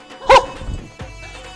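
A dog lets out one sharp, close bark, followed by a few fainter yelps and small noises in an otherwise quiet setting.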